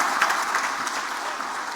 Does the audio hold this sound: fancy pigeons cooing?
no